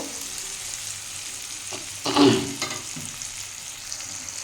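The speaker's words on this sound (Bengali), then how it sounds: "পেঁয়াজটা আমি একটু লাল লাল করে ভেজে নেব" Onion sizzling as it fries in a pan, a steady soft hiss with one brief louder burst of stirring near the middle, no voices.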